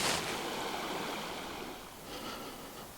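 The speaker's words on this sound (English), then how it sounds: "you could actually just drink right out of this creek" Winter creek water flowing in the backcountry of Algonquin Park at minus 16 C, a steady broad rushing wash, close and fairly soft, with no talking.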